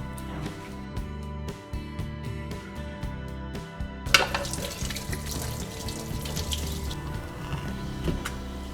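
Peeled squid rinsed in a kitchen sink: light clicking handling sounds give way midway to running tap water splashing loudly and close, continuing to the end.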